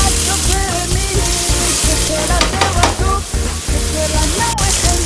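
Onion and garlic frying in a pan with a little salt, a loud, close, continuous sizzle with stirring scrapes and clatter throughout.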